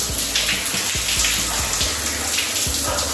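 A bathroom tap runs steadily during face washing, with splashing and dripping as water hits skin and basin, close and continuous.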